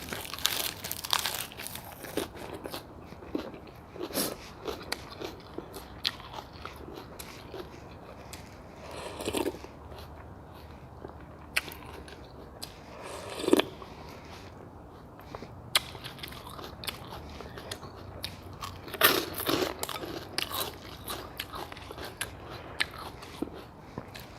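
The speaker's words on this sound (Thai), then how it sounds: "ผักอันนี้ก็กรอบกับผักกาดหอม" Crisp lettuce is chewed alongside a bowl of thin-noodle pork nam tok soup with fried garlic. Close, irregular crunchy bites and crinkly chewing repeat across a long stretch with almost no talking.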